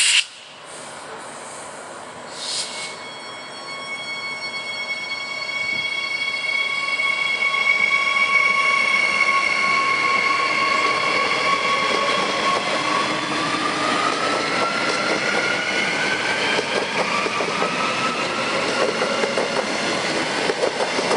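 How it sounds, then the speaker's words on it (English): Commuter train at a Brisbane station platform, rolling in or out with rising rumble, hissing brakes and squealing wheels, heard close and alone. "Train on platform 3 is the next all stations, Brisbane City and Ipswich service, departing platform 3"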